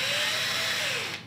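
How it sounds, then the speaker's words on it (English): A power drill spins a wooden marking gauge pin into a hole, a steady close whirring hum with rubbing friction that winds down at the end. "But what we do is we chuck it in the drill"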